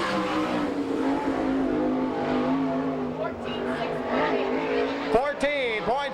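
A sprint car laps a dirt track at Salina, Kansas, in an All Stars/NCRA race. Its engine gives a loud, continuous roar with a steady pitch that climbs and wavers sharply as the car accelerates near the end.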